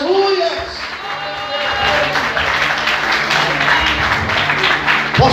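A church congregation breaks into sustained applause during a sermon, a dense wash of clapping that swells and holds, with a voice speaking briefly at the start.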